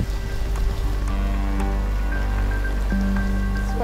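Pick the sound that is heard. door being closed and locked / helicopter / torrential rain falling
torrential rain falling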